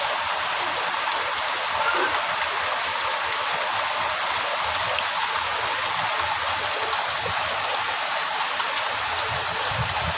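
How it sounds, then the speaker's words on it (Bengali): Heavy rain falls in a constant, dense roar of drops, sounding like rushing water, unbroken and even for the whole stretch with no voices. "আল্লাহ বৃষ্টি হয়েছে প্রচুর পরিমাণে"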